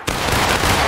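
A musket volley fired by a line of soldiers in the American Civil War game War of Rights at sunset, one loud, sudden, crackling blast that rolls on briefly, close and alone.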